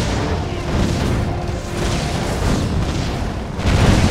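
Gun turrets fire and explosions go off in the Defense Grid: The Awakening tower-defense game, a dense, continuous barrage of booms and crashes that swells louder toward the end.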